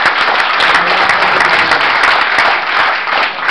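An indoor audience gives sustained applause, dense and loud, with many hands clapping steadily throughout before easing slightly near the end.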